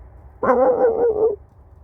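A person mimics a dog's bark with one drawn-out, whiny woof lasting about a second, loud and close, followed by quiet.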